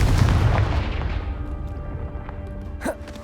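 A spell blast from Hogwarts Legacy booms against a pile of blocking debris: one heavy, close explosion that rumbles and fades over a few seconds, followed by a short sharp crackle.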